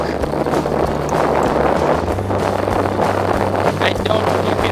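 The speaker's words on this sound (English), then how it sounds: "I don't know if you can hear me because of the wind." Strong wind at a beach buffets the microphone, producing heavy low-frequency rumbling gusts over a steady rush of surf, loud and continuous.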